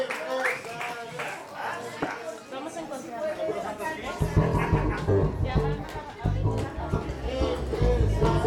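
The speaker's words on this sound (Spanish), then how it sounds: "El aplauso una vez más es para ustedes." An audience in a brewery bar applauds after a live band's set, with clapping and crowd chatter mixed in and a voice speaking over the noise.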